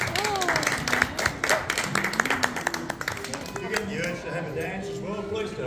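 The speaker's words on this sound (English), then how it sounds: "So big round of applause for my compadres" An audience claps after a group ukulele and guitar jam, giving busy, scattered applause under a voice talking throughout.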